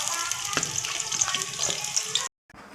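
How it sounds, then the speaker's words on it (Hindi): Onions fry in hot oil for a beetroot and meat curry, a bright, crackling sizzle with a few stirring knocks, cutting off abruptly near the end. "प्याज को फ्राई कर लेंगे"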